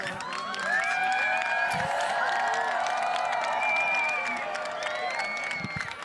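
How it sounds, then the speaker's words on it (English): Eclipse watchers outdoors applaud and cheer as totality ends, a steady crowd of clapping, whoops and shouts that stays loud throughout, with scattered voices mixed in. "Everyone applauding and cheering because they know that it has been the end of totality"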